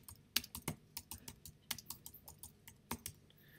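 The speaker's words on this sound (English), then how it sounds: "I'm going to type in West Valley College." Someone types a search on a computer keyboard, a quick uneven run of soft close key clicks in a quiet room.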